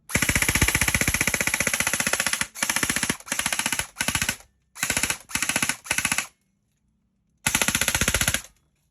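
An E&C 311-1 full metal airsoft AEG rifle fires full auto in several rapid mechanical bursts, one long, then shorter ones separated by pauses, and a final longer burst, loud and close with no talking.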